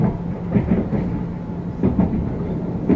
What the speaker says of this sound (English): Clickety clack as we approach Fareham.